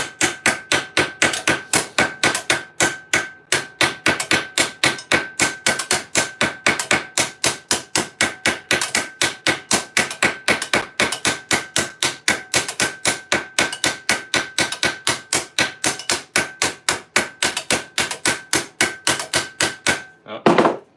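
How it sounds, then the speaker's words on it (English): A hammer strikes steel and copper rivets on a pair of half gauntlets with leather straps, a long run of rapid, evenly spaced metallic blows ringing close and loud, with no talking. "Let's just put a steel rivet in, and then a couple copper rivets for the leather strap"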